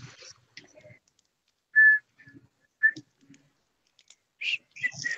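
A person whistles in short, clear tones, with two brief bright notes standing out against a quiet room. Soft clicks and faint rustling are scattered around the whistles.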